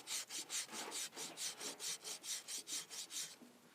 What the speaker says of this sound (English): I'm just removing the rust.